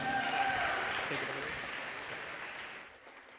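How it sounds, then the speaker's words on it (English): Wedding reception guests clapping for the toasters, a dense burst of applause that is loud at first and fades away over a few seconds. "One more time, big round of applause for both of our toasters this evening."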